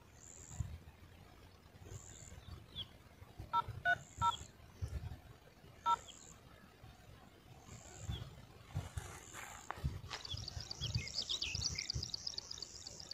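A few quick, faint phone keypad tones sound in a short burst and then once more, over quiet background noise with periodic high beeps.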